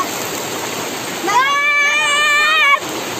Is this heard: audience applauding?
no